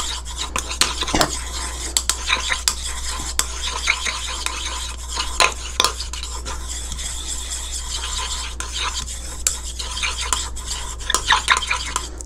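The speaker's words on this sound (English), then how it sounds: "So right now you want to continue mixing it until it cooled down comfortably." A utensil stirs homemade coconut oil lotion in a bowl, scraping and clinking irregularly against the sides over a constant low hum, close and fairly loud with no talking.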